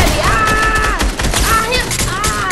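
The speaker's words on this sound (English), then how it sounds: "He's shooting at me." An enemy player's gunfire in Fortnite, rapid loud bursts of shots and clattering impacts layered with game effects and tonal whistles, fairly close and dense throughout.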